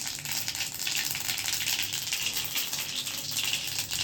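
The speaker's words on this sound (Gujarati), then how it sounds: "આ હિંગ નાખીને હમણાં વઘારી નાખી." Mustard seeds and asafoetida crackle and sizzle in hot oil for a Gujarati-style tempering, a steady close frying hiss with no talking.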